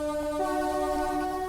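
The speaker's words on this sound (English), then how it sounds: "This is a modded horn that I put on this train." A modded Class 375 train horn in a railway video game sounds as one steady, sustained multi-tone blast with no talk.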